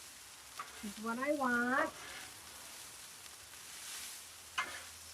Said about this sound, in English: Okay, so I'm going to stir my rice.